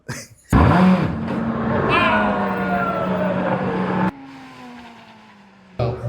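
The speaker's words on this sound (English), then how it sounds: "this is my first go in an actual race car" A race car engine drones loudly, its pitch sweeping upward as it revs. It cuts off abruptly, drops to a lower steady hum, then surges back at the very end.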